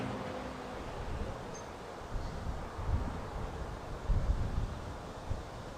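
Wind buffets outdoors in uneven low gusts, rumbling and rustling with occasional stronger swells, no voices.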